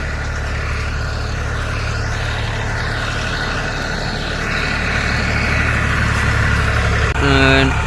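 A paddy harvesting machine's engine runs loudly and steadily, a heavy, close drone that grows slightly stronger toward the end, with a brief higher mechanical tone at the finish.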